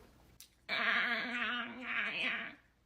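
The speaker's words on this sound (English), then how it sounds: "This dog is obsessed with watching squirrel videos on an iPad." A dog watching squirrel videos on an iPad makes a sustained nasal whine or yelp lasting about two seconds, loud and close, wavering in pitch, with no talk over it.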